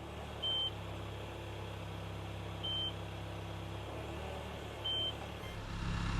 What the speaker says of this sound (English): I don't remember that beep. Does it always beep like that?